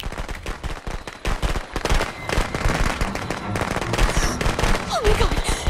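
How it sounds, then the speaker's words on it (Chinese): Firecrackers going off in the horror video game Friday the 13th, a rapid, loud, crackling string of bangs that continues throughout the clip. "又是鞭炮"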